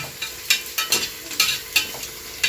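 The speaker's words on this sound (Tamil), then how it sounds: "வெங்காயம் நல்லா வேகட்டும்." Onions frying in a pan for mushroom biryani, a steady soft sizzle with regular scraping strokes of a spoon stirring every half second or so, close and fairly quiet.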